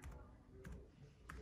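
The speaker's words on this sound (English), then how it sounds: "typing password" Quiet, quick tapping of Dell XPS laptop keys while typing a password, in a few short bursts, faint and close, with a soft murmur in the background.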